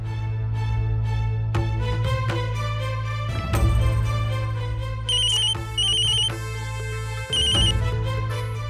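A telephone ringtone plays loud and close, its electronic melodic tones repeating in short bursts over a steady low hum, with no voices.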